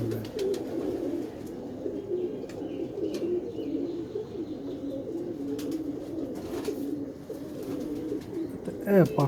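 Feather-footed pigeons coo in a steady, overlapping chorus of low, throaty calls that runs throughout without pause.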